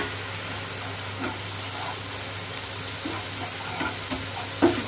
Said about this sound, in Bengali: ভালো করে মশলাটা কষবেন